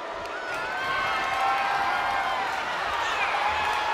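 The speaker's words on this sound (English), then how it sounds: "Look at this crowd. It's insanity in here." A dense arena crowd roars and cheers continuously at a wrestling match in WWE 2K23, a loud sustained wash of voices and whoops that swells slightly and holds steady throughout.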